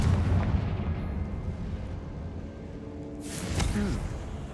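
Fiery Confringo spell blasts in the Hogwarts Legacy video game: a sustained rumbling roar of explosive bursts, loud and dense, with a sharper crack and whooshing flare near the end.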